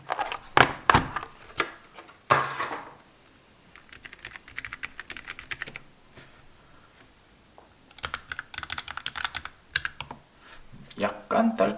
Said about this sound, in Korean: 요런 정도의 타건음이 나고 있고요